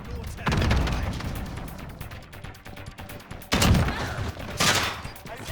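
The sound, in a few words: gunfire from a gun in video game Modern Warfare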